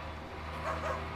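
A dog barks in Farming Simulator 2017 on the Gorzkowa map, a couple of short mid-distance woofs over a steady low farm-game background drone.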